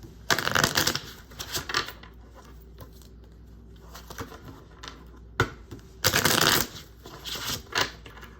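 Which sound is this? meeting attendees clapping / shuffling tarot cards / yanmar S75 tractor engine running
shuffling tarot cards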